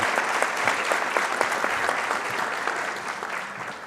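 Sustained audience applause from a seated crowd at a panel debate on artificial intelligence and ethics in law, a dense, steady patter of many hands lasting throughout without fading.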